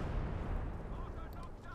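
Mortar and artillery fire in the World War II strategy game Company of Heroes 2, a steady low rumble of distant blasts and booms lasting under two seconds, fairly faint.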